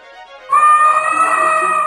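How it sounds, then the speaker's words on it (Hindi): An elephant in an animated Hindi children's story cries out in fear: a loud, sustained, high wailing call bursts in after a quieter tonal lead-in and holds steady to the end. "हाथी डर के चिल्लाता है"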